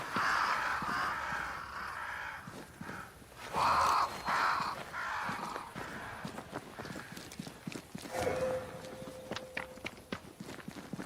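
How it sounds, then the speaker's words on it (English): Crows caw in the video game Banishers: Ghosts of New Eden, a few harsh calls over an outdoor ambience with clopping hooves and footsteps, moderately loud with no talk. "Crows. They flock to that great tree up there."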